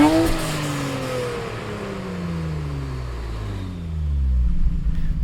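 A Nissan GT-R engine in the Gran Turismo racing game revs loudly and then drops in pitch, the tone sweeping down steadily as the car pulls away, with a deep rumble building near the end.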